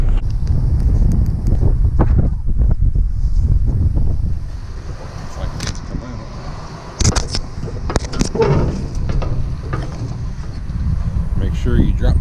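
Strong wind gusting outdoors beside a dump truck hauling blacktop, heavy buffeting rumble on the microphone that eases briefly midway, with short knocks and clatter over it.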